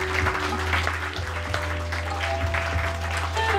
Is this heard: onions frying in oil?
no